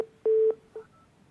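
Telephone dialing tones sound during reconnection of a dropped call on a television news program: one short click, then a single sustained tone, followed by a fainter brief tone, clear and close with no talk.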